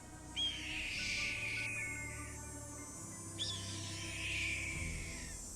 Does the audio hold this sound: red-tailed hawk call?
yes